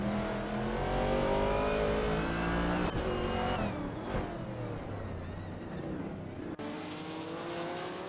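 Racing-game engines, among them a 1977 Lancia Stratos HF rally car, whine and rev continuously with shifting pitch as cars jostle for position, loud and steady throughout.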